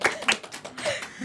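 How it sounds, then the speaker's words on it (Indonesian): A handful of scattered claps from a small audience at a talk, quick uneven slaps close by, mixed with light voices and murmuring. "Tepuk tangan dong."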